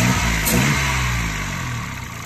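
Citroen C1 / Toyota Aygo small petrol engine with a misfire and one ignition coil disconnected, revving in a short blip then settling toward a rough, uneven idle, loud and close with no talk.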